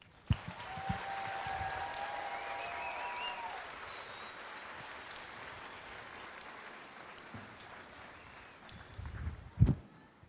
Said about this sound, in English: Ladies and gentlemen, can I get a round of applause for the soldiers on the field?